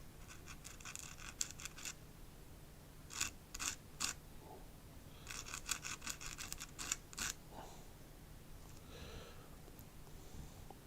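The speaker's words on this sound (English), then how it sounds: "we're going to do a very light rubbing on the sandpaper here" A seed is rubbed lightly against sandpaper in a few short scraping bursts, faint and close, separated by quiet pauses.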